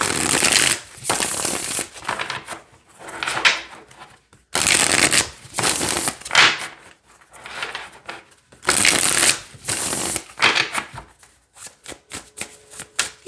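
Tarot cards being riffled and bridged in several bursts, crisp rapid flutters separated by short pauses, close up with no talking.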